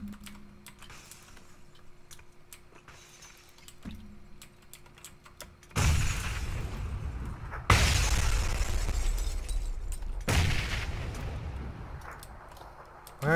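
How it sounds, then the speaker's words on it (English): Grenades explode inside a house in PUBG: after quiet tapping clicks, three loud, booming blasts burst in one after another, each followed by a rumbling roar that fades. "I'm just lobbing grenades into this house"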